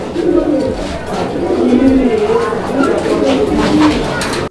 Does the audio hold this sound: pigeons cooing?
yes